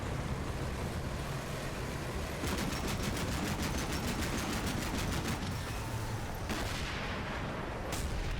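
Tank cannon and gunfire in the Cold War tactical game Combat Mission Cold War, a dense rumbling barrage with a rapid burst of repeated shots in the middle and a few sharp reports near the end.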